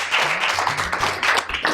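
Studio audience at a comedy show breaking into applause: a dense patter of many hands clapping at once, steady and moderately loud, with a voice talking over it near the end.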